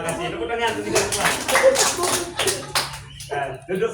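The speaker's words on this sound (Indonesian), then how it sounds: "Tepuk tangan untuk kita semua." A group of women in a meeting room clap together in a short burst of uneven, overlapping hand claps, fairly close, fading out after a few seconds with some shuffling.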